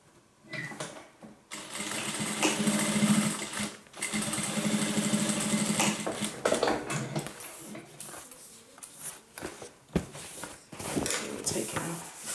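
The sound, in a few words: sewing machine stitching a crossbody handbag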